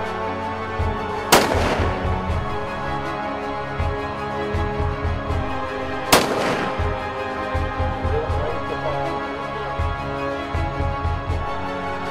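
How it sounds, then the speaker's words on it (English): Long range rifle fire at a shooting range: two sharp, loud gunshots several seconds apart, each ringing out with a long echoing tail over a steady rhythmic low thumping background. "Let's get in here and do some shooting."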